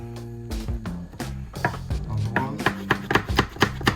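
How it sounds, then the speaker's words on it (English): Peppers are chopped with a knife on a board while cooking a vegan Jamaican-style dinner. Close, crisp chops start sparse, then quicken into a fast, even run of cuts. "Like for me, that's how I cut. I get more out of the peppers like that."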